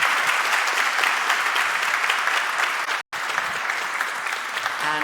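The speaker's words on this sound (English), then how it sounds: "Give him another hand of applause," A conference audience on a main stage applauds speaker Michal Převrátil, loud continuous clapping broken by a brief dropout partway through.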